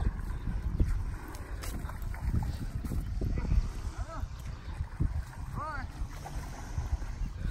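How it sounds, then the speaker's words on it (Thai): Strong wind buffets the microphone outdoors near a performing baby elephant, a steady rushing roar with low gusting rumble, and faint voices and brief tonal calls sound behind it. "โอ้โหเสียงลมแรงมากเลยครับ"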